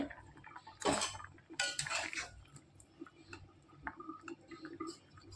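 A metal lid lifted off a kadai with potatoes and taro boiling inside, giving a sharp metallic clatter and scrape up close, then softer clinks and a quiet bubbling simmer with no talking.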